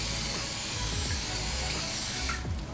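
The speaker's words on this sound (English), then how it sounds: "let's spray a little bit of oil on here" Cooking oil sprayed onto a Michelangelo non-stick frying pan gives a steady, close hiss lasting a couple of seconds before cutting off, with faint kitchen background.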